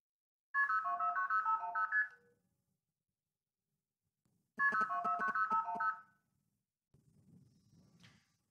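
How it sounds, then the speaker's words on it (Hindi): A mobile phone's outgoing call to a New York number rings over the speakerphone in two melodic tone bursts separated by a few seconds of silence, followed by a faint, low rustle. "मैं नंबर डायल कर रहा हूँ, मैं स्पीकर भी ऑन कर दे रहा हूँ इसका, ताकि आप आवाज़ सुन सकें"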